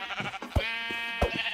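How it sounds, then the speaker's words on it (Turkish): Sheep bleating in the Minecraft video game, two short wavering bleats roughly half a second apart, clear and close against a quiet background. "2 tane koyun. Ha 3 tane."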